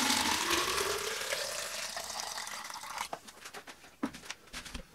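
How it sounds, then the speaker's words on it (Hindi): Water from a bucket pours in a steady rushing stream into a homemade solar water heater tank, then tapers off into scattered splashes and drips, with no voices. "इसमें मैं इस तरह मैनुअली बाल्टी के जरिए पानी डाल के फुल कर लेता हूँ"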